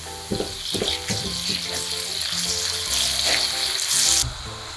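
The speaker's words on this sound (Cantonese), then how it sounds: "跟手將啲豆豉都倒埋入去炒。" Fermented black beans and garlic stir-fried in a hot wok for a Cantonese black bean sauce give a loud, steady sizzle, broken by repeated clattering stirs and a brief louder surge near the end.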